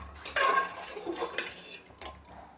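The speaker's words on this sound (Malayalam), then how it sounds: "ശർക്കരയൊക്കെ നന്നായിട്ട് തന്നെ പാലിൽ അലിഞ്ഞ് ചേരണം. അതിനുവേണ്ടി നന്നായിട്ട് തന്നെ മിക്സ് ചെയ്ത് കൊടുക്കാം" A spoon or ladle stirs jaggery into milk in a metal pan while making a Karnataka-style drink, giving light clinks and scrapes against the pan at close range with no talking.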